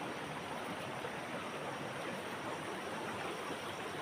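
Fast, clear river current rushing steadily in a broad, constant roar of flowing water, fairly faint and continuous with no voices.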